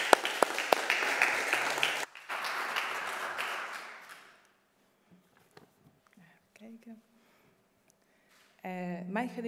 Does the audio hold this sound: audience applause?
yes